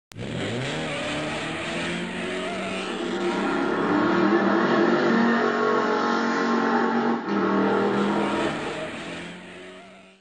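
Drag race cars in an I4 racing tournament, with a loud, sustained engine roar that climbs steadily in pitch while accelerating and holds strong to the end, close and unbroken.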